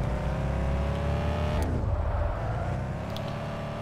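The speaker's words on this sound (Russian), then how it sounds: "вот это она дрифтит" Car drifting in the video game Car For Sale Simulator 2023, with a loud, steady engine drone that sweeps down in pitch as the car slides, followed by brief tire skid squeals and continued engine noise.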